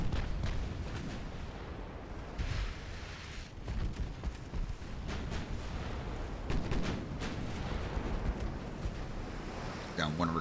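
Enemy naval gunfire striking a warship in Ultimate Admiral: Dreadnoughts, heavy booming impacts and rumbling blasts over a constant wash of sea and wind noise.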